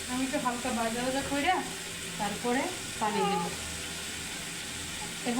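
Khichuri rice and vegetables lightly fried in a pan give a continuous, close sizzle with stirring scrapes, and a faint voice is heard over it in places.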